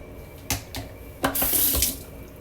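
Water runs from a tap in short bursts, a splashing gush that starts and stops a few times at close range, with no talking.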